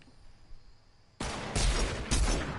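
Loud gunfire in a video game. A quiet stretch with faint tones gives way to a sudden heavy blast and two more booming shots about half a second apart.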